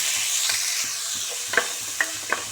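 Cumin seeds and finely chopped onions fry in a little oil in a kadai for a cauliflower kofta dish, a bright steady sizzle broken by a few sharp clicks and scrapes of a spoon stirring the pan, with no talk.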